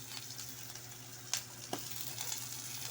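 Shrimp hit a hot frying pan with green and red chilies and onion leaves, setting off a steady close sizzle with a couple of sharp pops and a brief stir, no voices.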